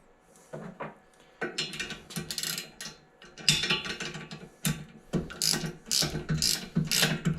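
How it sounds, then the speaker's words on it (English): A ratcheting wrench clicks in rapid bursts while bolts are run down on a Pittsburg 1000 lb engine stand during assembly, close and crisp, with short pauses between runs and no talking. "Ratcheting wrench for sure."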